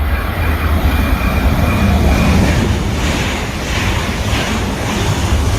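A European high-speed train rushes past at steady speed, a loud continuous roar with metallic rail hiss and rhythmic clatter, no one speaking.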